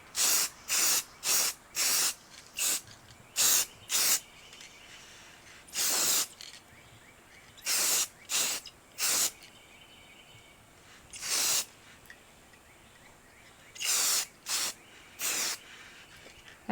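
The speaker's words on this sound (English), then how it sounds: "we just spray painted them with gold spray paint" Gold spray paint hisses from an aerosol can in a run of short bursts, some quick and clustered, others longer, with brief quiet gaps between, close and fairly loud while refinishing bedroom pieces to a brassy look.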